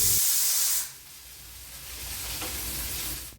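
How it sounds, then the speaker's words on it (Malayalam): A pressure cooker of rice lets off steam through its whistle weight, a loud, close jet of hiss that drops after about a second to a softer, continuous sputtering hiss. "ഈ ഒരു വിസിലോട് കൂടി നമ്മുടെ ചോറും റെഡിയായി."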